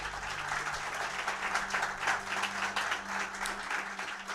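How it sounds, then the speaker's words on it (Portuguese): A church congregation applauding Jesus during a sermon, a steady dense clapping from many people, moderately close, sustained throughout. "Vamos aplaudir Jesus?"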